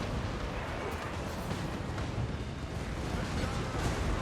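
Cannon fire and explosions in a Warhammer 2: Total War battle, a dense continuous roar of booms and blasts with no clear gaps, heavy and loud.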